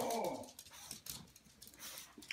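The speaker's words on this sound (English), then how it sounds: "I was like wondering, what is he barking at?" A dog reacting to a stuffed toy puppy gives a short, fairly quiet burst of whimpering and growl-like vocalizing, with a few scattered sounds after it indoors.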